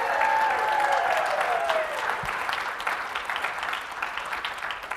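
An audience at a tech conference talk applauds and cheers, dense clapping filling the room and slowly thinning, with a whistle-like whoop early on.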